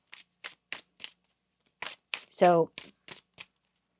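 Oracle cards are shuffled in a run of quick, crisp riffling bursts with short pauses between them, close up. A single word is spoken midway.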